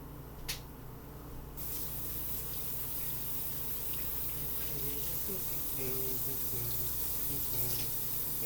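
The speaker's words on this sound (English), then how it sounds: "I'm going to get started by washing my hands" Tap water runs steadily into a sink as hands are washed during a physical therapist assistant clinical exam, a continuous splashing rush with faint background voices.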